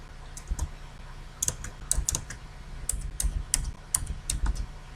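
A name is typed on a computer keyboard into a PDF form, with light, irregular key clicks in quick clusters and short pauses, close and fairly quiet against a low background hum.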